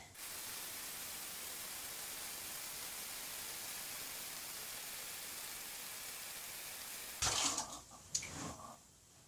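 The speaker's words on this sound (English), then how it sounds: "I'm going to run the water to get a little bit of water in the tub" Water runs from a tap into a bathtub, a steady, loud rushing hiss that fills most of the clip before it cuts off, followed by a few close knocks and clatters.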